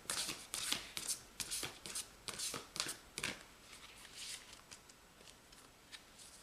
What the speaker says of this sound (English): last shuffle, and then I will take from the bottom of the deck.